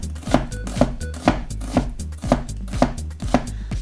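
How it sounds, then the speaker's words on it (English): An onion sliced on a board with a Damascus steel knife, a close, regular run of crisp chopping strokes, about two per second, each ending in a knock on the board, with no talking. "Now let's cut some onion"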